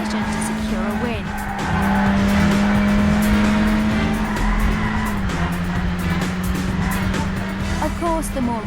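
Racing cars in a video game roar with sustained engine drone and repeated tire squeals and skids, loud and continuous throughout, with game voices or sound effects layered in.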